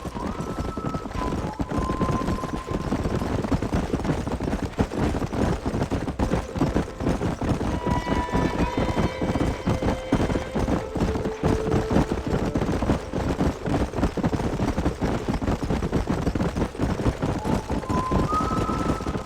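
Continuous galloping horse hooves thud in a fast, busy rhythm throughout in the PC game Red Dead Redemption, with faint tonal calls and background game noise layered over the steady pounding.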